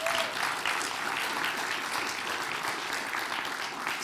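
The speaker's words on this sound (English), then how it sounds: "Give Mary a big round of applause" A crowd at the Shannon Region Junior Chef of the Year 2022 competition applauds chef Mary, with a dense, even wash of clapping sustained at a steady level throughout.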